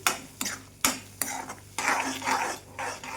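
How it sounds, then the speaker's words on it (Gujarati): Chana dal with curd is stirred in a pan, producing a run of scraping strokes and clinks of a spoon against metal over a soft sizzle, close and irregular, with no talking. "અને હવે આપણી જે દાળ છે તેને આપણે હલાવી લઈશું"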